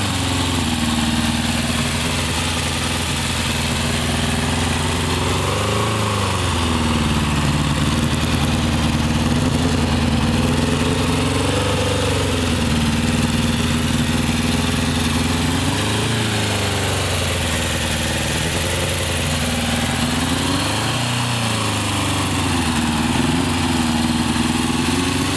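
A 1981 Honda CB750F motorcycle engine runs steadily and loud for the whole stretch, a droning mid-pitched hum with periodic revving swells roughly every five seconds and no voices.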